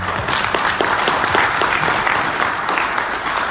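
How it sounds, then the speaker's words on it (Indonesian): Audience members in a meeting room at a Milagros product event give a round of applause, a thick, steady clapping that stays loud and even for the whole stretch. "sekali lagi tepuk tangan buat yang ada di ruangan ini"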